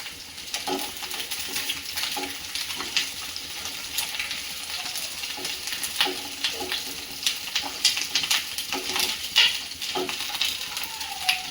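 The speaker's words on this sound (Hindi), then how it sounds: "अब इसमें परवल फ्राई कर लेते हैं।" Pointed gourd (parwal) fries in hot oil in a pan, a steady loud sizzle with scattered crackles and occasional stirring scrapes, heard close with no talk.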